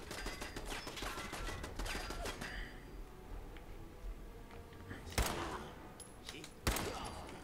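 Bursts of submachine gun fire in the Fallout 4 video game, rapid volleys in the first two seconds and two sharp loud shots later, over game ambience with voices.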